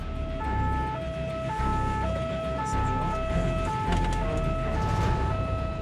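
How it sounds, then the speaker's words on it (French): A SAMU ambulance races at speed through the Burgundy countryside between Dijon and Auxerre, its two-tone siren alternating in a regular pattern over road and engine noise. "une ambulance du SAMU est lancée à vive allure"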